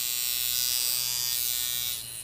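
A coil tattoo machine runs freshly calibrated, giving a loud, steady, high electric buzz at close range that holds evenly before dropping in level near the end.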